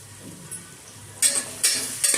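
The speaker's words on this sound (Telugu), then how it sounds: "మరుగుతుంటుంది." Rice mixture for veg biryani cooks in a tall cooker, a low steady bubbling that breaks into three loud bursts of hissing sizzle, close by, with no talk.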